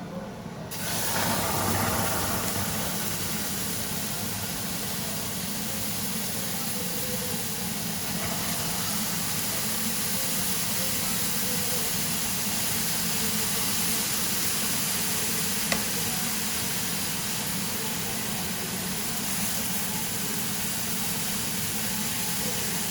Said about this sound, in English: I'm adding my stock.